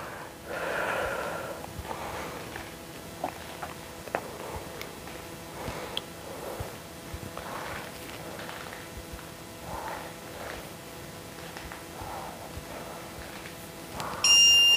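Steady in-and-out breaths during a muscle-strengthening workout, soft rhythmic puffs about every second and a half, close and moderate, with no talking.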